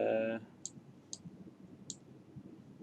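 A computer mouse clicks while running a CFD thermal analysis of a mixing elbow, giving three crisp, isolated clicks spaced about half a second apart after a brief tone fades, quiet against low background noise.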